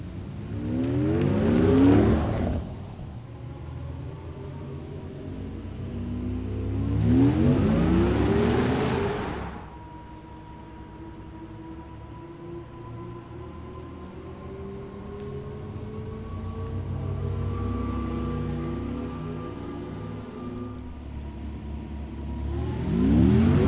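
A 2021 Audi e-tron Sportback electric car drives past, producing synthetic whooshing swells with rising and falling tonal sweeps in three distinct surges separated by a softer, steady hum.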